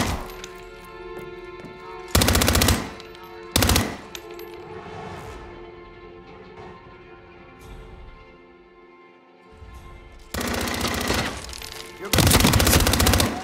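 Bursts of rapid automatic gunfire from the video game Hitman 3, loud and close, come in two short volleys early on and a longer sustained burst near the end, over a steady game background hum.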